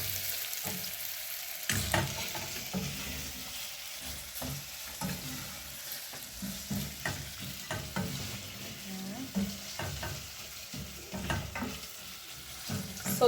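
Onions frying in a pan for a wet-fry liver dish, a steady sizzle broken by repeated scraping stirs of a spoon against the pan, close and clear with no talking.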